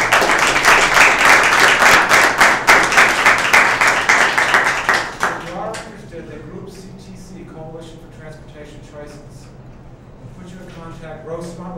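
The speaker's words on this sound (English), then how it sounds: "and an applause for Mark." Meeting audience applauding Mark at a student community government session, loud dense clapping for about five seconds that then drops away to quieter room sound with talking.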